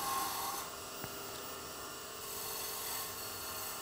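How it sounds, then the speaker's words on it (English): A cabinet scraper shears across rough wood to clean off tool marks, giving a steady, close rasping scrape that runs continuously without pause and without speech. "I can go back and do what's called shear scraping and clean that up a little bit."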